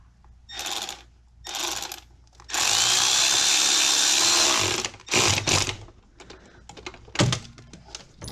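A 6mm socket tightening the intake pipe clamp on a 2011-2013 E70 BMW X5 with the N55 engine, heard as short ratcheting bursts and one sustained whirring run of a powered driver, close and loud.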